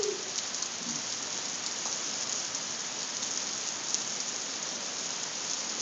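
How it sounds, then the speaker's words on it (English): Steady, dense rain pours down without letup, a constant hiss with occasional heavier drops spattering close by. "Oh my gosh, it's raining so hard."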